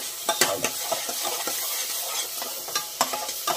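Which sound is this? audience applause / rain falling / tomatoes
tomatoes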